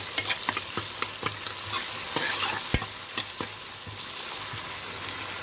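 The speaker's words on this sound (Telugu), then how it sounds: "వేయించుకున్న తర్వాత అరటికాయ ముక్కలు వేసుకున్నాం." Raw banana pieces fry in a pan with a steady broadband sizzle, while a spoon or spatula scrapes and clicks against the pan at irregular intervals, close and clear with no talk.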